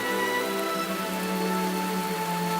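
Heavy rain shower in the Kalahari desert, a dense steady hiss of rain falling continuously at full strength over a low hum, with no voices.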